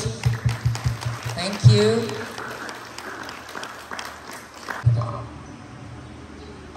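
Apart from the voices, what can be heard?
audience applause at yoga conference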